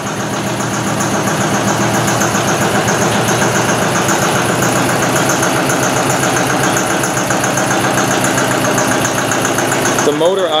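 A single-cylinder octane rating test engine runs steadily at 600 RPM, a loud, close, continuous mechanical drone with a rapid, even pulse and constant vibration throughout.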